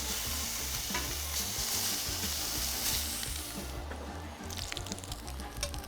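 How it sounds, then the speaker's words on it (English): Pork belly frying in a cast iron pan, a loud, steady crackling sizzle with bursts of spattering throughout. "look at that little stack of sizzling pork belly"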